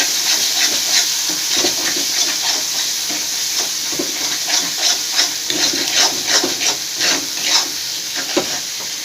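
Masala and marinated mutton liver sizzle and crackle steadily in a pan as they are sautéed, with frequent scraping and stirring noises over a continuous frying hiss.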